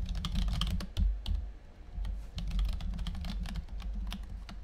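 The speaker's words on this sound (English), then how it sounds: "I'm just gonna keep typing random things." Rapid typing clatters on a computer keyboard, close and continuous, with irregular key clicks and heavier thumps of the space bar throughout.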